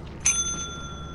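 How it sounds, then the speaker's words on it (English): A single bright bell strike from the ship bell in the video game Lethal Company, a sharp metallic ding whose clear tones ring on and fade slowly over the clip. "Ring the bell a bunch of times."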